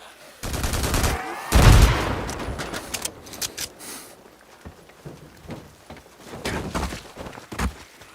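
Gunfire in the video game Days Gone: repeated loud shots fired from inside a vehicle at spawning enemies, dense volleys early and scattered single cracks later, with no voices.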